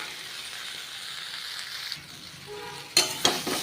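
Mixed leftover vegetables for a Bengali labra sizzle and fry in a pan, a steady close hiss broken near the end by a few sharp clanks of stirring against the metal.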